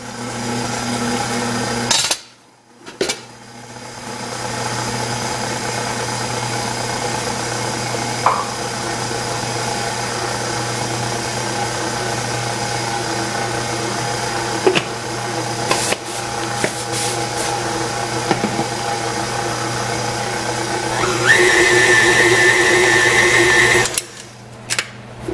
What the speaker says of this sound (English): I'm going to put my paddle back on and get it mixed in.